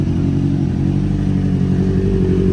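A Honda CB650R motorcycle idles steadily while warming up, a continuous low rumbling engine note heard from a short distance with no revving, alone without talk.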